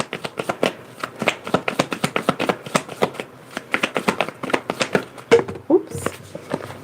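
Tarot cards being shuffled by hand in quick, rhythmic riffling bursts, close and crisp, with a brief spoken moment near the end.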